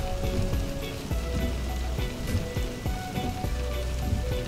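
Rain patters on a vehicle driving on the Cikampek main toll road, a continuous wet wash over a droning, rumbling engine and road noise.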